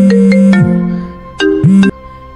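A mobile phone rings with a loud, close electronic ringtone, two bursts of bright tonal notes with a falling swoop, a short gap between them, then the tone trails off.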